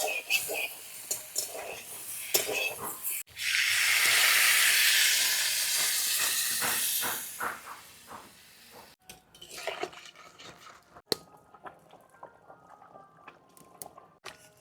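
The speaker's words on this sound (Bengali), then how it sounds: "ঝোলটা ফুটে গেছে" A pot of fish and cauliflower curry with potatoes comes to a boil, a loud hissing, steam-like bubbling surge that swells and then fades into scattered clinks and quieter simmering.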